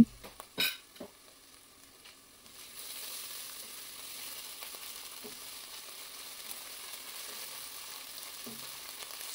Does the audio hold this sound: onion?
yes